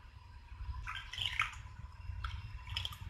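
Water is poured into a floral ice bowl mould up to the rim. It comes as soft, faint trickles and small splashes in a few short bursts over a low background rumble, with no talking.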